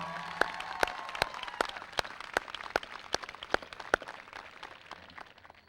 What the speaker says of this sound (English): As your name and branch are called, please stand to receive your applause.